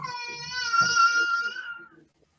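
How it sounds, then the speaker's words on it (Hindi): A child cries in the background of an indoor training session, a single sustained wail that rises and fades out, fairly close. "किसी के बच्चे रोने की आवाज़ आ रही है।"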